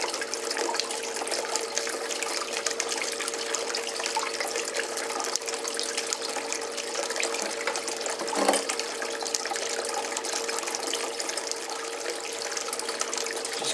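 Water runs through a Prospectors Choice 19A2 finishing sluice box in a steady, continuous rushing wash, moderately loud and even throughout, with one brief louder splash partway through.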